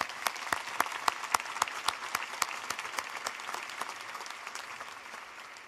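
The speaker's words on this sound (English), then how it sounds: "Please pause and clap for our faculty." At Rice University's 2025 commencement, an audience applauds the faculty with distinct, scattered claps that ring out in a large space, building briefly and then gradually thinning and fading.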